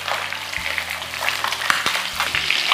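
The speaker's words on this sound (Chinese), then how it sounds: "油热后，把我们的鲈鱼放进去，煎至两面微黄" Sea bass pan-frying in hot oil over medium heat, producing a dense, continuous close-up sizzle and crackle with small pops, heard alone without talk.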